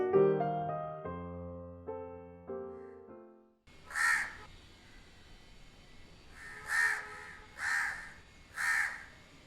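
A black crow caws loudly and harshly in four separate calls after a few soft piano notes fade out, each caw standing alone against a quiet background.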